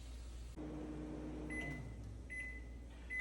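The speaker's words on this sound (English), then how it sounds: "I'm gonna take the rice, put it on the dish, and microwave it for about 45 seconds." A microwave oven runs while heating a dish of cooked rice, a low steady hum starting after a faint click, with a few short high beeps near the end, close and alone.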